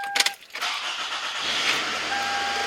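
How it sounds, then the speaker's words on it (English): A car engine cranks and catches in a short burst, then settles into a steady idle with blower-like hiss, close and alone with no talk. "what we are gonna do is start the car"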